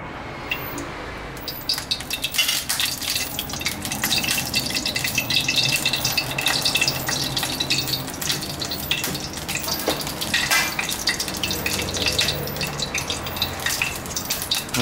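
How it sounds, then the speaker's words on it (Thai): Lard hisses and sizzles steadily as it goes into a hot pan, a dense continuous frying crackle for Thai stir-fried chicken with chilli and bamboo shoots, loud and close with no talking. "ใส่น้ำมันหมูลงไปนะครับ"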